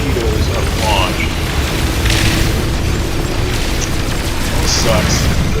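Torpedoes launch and burst in No Man's Sky during a fight with a pirate dreadnought, a steady rumbling roar of booms and blasts under continuous game noise with a few sharp bright impacts.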